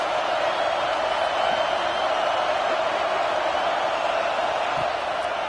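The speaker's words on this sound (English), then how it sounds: "how loud is it in this building? This is crazy. These fans are going absolutely nuts." A loud, dense college football stadium crowd roars continuously, a steady wall of cheering and yelling that never lets up.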